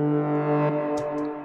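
Techno sound effect run through a frequency shifter, a sustained buzzy tone with stacked harmonics that wobbles and warps midway, then brief hissy bursts near the end, with no voice.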